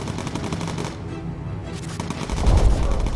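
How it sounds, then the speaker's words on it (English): A homing missile fires in the Bomber Crew video game, a burst of rapid cracking gunfire-like reports ending in a heavier low boom, loud and alone. "And let's just fire a homing missile."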